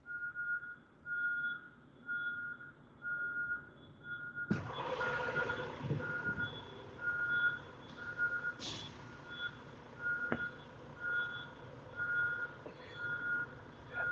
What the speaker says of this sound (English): Is that Gorlock backing up, I hear?